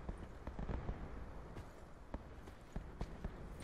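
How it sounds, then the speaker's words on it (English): Scattered gunshots crack in irregular bursts at varying distances in a Call of Duty: Black Ops 4 Blackout match, sharp pops over a dense, noisy game backdrop. "There's so much gunfire around us."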